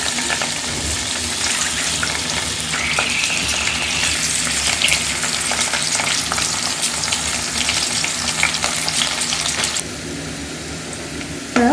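Onion fries in about 40 ml of hot oil for a tomato egg thokku, a loud steady sizzle with occasional stirring clatter that eases slightly near the end.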